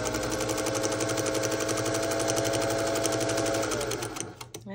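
A vintage Singer 201 sewing machine stitches pajama fabric in a fast, steady, close-up whir that runs continuously and then slows and stops near the end.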